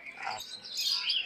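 Birds at a large pigeon market in Khalishpur, Khulna, give soft, faint chirps and tweets in a brief close burst.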